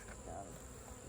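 Honey bees buzz in a soft, steady drone as they are moved into a 10-frame hive box.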